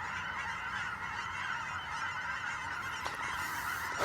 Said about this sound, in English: Holy crap, that is a lot of birds.